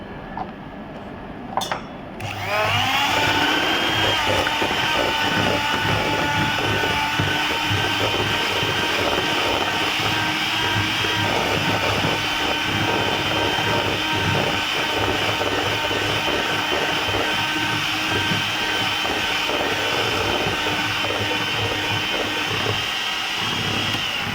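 Electric mixer beating butter for a fruit cake, a steady high whirring motor hum that starts after a brief clink and runs continuously and loud for over twenty seconds.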